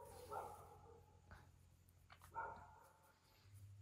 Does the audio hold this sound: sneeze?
no